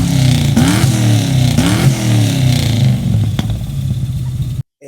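A 1966 Ford Mustang with a 302 V8 engine revs up twice in quick succession with a deep rumbling idle between, loud and close, before cutting off abruptly at the end.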